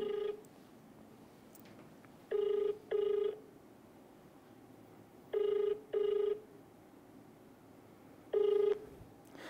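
Telephone ringing for an incoming call to a live show, in clear double-ring pairs repeated three times with pauses between, moderately loud over a quiet background hiss.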